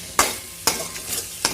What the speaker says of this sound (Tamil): ஸோ நல்லா வந்து இப்போ பாருங்கள் எண்ணெயில் ஃப்ரை ஆகும்